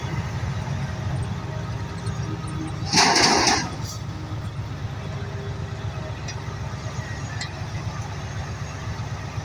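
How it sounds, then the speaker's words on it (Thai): An excavator's engine idles with a low, steady rumble while it loads a truck, and a short, louder mechanical burst rises briefly about a third of the way in. "ตอนนี้แมคโครก็กำลัง ตั้งลำตักใส่ของรถ"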